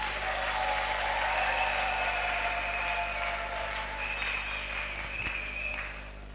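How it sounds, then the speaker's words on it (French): A church congregation applauds and cheers for the Lord at a service led by an apostle, a dense continuous wash of clapping with faint cries and a low steady hum beneath, tapering slightly near the end. "Est-ce que tu peux acclamer pour le Seigneur?"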